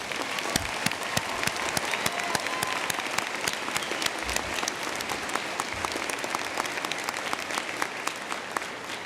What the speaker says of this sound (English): Will the members of the audience please join me in another round of applause to recognize this special graduate?